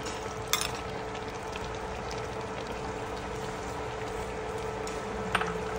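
Chili peppers simmer in reducing coconut milk for gintaang sugpo, a Filipino prawn dish, giving a steady bubbling sizzle throughout with a couple of sharp clinks of a utensil against the pan and no one talking.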